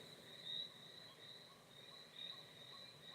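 Steady high-pitched crickets chirping continuously outdoors, a faint insect trill with slight swells in loudness and no voices.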